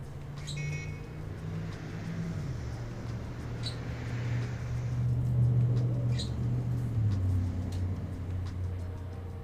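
Car driving in the video game Trails to Azure, a steady low engine drone with slight pitch shifts across the whole stretch, mixed with faint game effects, no talking.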